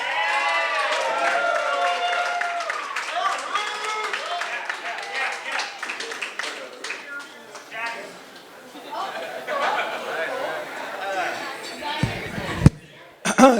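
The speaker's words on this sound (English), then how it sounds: "A round of applause for Eric" Wedding guests clap and cheer for the groom's friend stepping up to give a speech, a steady burst of applause mixed with crowd chatter and voices, fading out near the end.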